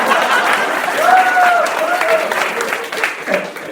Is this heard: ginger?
no